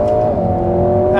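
Four-cylinder engine of a Lotus Emira sports car revving hard close by, a loud, sustained rasping growl with steady harmonic tone and a slight rise in pitch.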